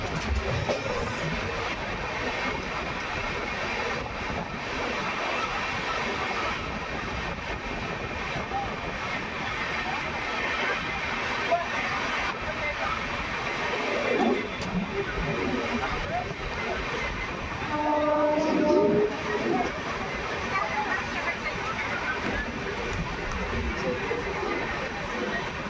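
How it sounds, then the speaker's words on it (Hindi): The Dayodaya Express pulls away from Durgapura railway station, a Jaipur sub-station, with a steady rumbling wheel roar heard from aboard, rising slightly near the middle and end, while someone talks over it. "तो 2 मिनट के स्टॉपेज के बाद ट्रेन डिपार्चर हो रही है दुर्गापुरा रेलवे स्टेशन"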